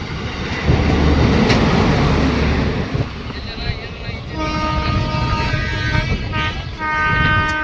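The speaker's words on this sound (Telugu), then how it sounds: "చిన్న ట్రైన్ ఇది." A small train passes close by along a pilgrimage walking route, its rumble filling the opening seconds before a steady tonal horn toots in the second half. People talk over it.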